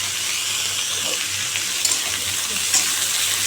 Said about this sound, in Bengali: গোটা জিরে দিয়েছি তেজপাতা দিয়েছি শুকনো লঙ্কা দিয়েছি দিয়ে একটু তরকারি করছি